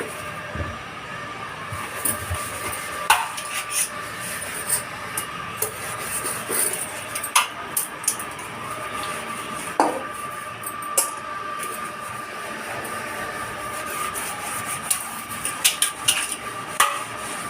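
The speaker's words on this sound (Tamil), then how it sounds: "இந்த துருலாம் போகணுன்னா நம்ம இரும்பு நாள் வச்சுக்கணும். வச்சு லைட்டாக தேய்க்கணும்" Steel wool scrubbed lightly across a rusty iron kitchen pan, giving a steady gritty rasp broken by frequent sharp metallic scrapes and clinks, close and moderately loud with no voices.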